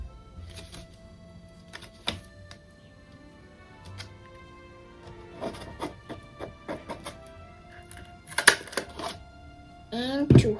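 A hole punch going through paper to make string holes in a homemade paper lantern, several sharp clicks and snaps scattered through the clip with gaps between, ending in a louder cluster of rustling and clacks.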